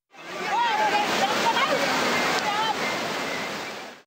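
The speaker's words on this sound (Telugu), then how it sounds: "తలమట్ల గ్రామ శివార్లోని రైల్వే పట్టాల కింద నుంచి వరద ఉధృతంగా ప్రవహిస్తోంది" Floodwater rushing fiercely beneath railway tracks on a village outskirts, a loud steady roar of turbulent water with a faint voice or two drifting over it.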